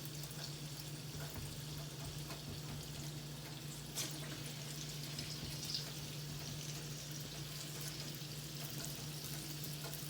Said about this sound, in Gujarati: હવે તેલ થઈ ગયું છે હવે આ રીતે આપણે તળી લઈશું